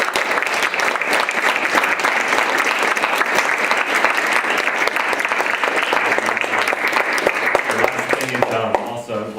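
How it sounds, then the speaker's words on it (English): Sustained, dense applause from an audience at the close of a Friday speaker series talk, a steady wash of many hands clapping that carries on without a break before tapering slightly at the end. "let's have one more round of applause for Pier."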